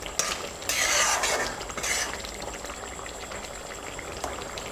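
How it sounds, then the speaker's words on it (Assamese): Mutton curry is stirred in a pot, wet scraping and sloshing swirls in bursts near the start, then a softer steady simmering bubble. "দিয়াৰ পিছত মই এতিয়া মাংসখিনি লৰাই দিছোঁ"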